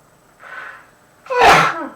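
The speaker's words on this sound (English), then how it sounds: "I usually sneeze in threes for those who don't know me." A person sneezes loudly once after a soft intake of breath, a single close burst with nothing else around it.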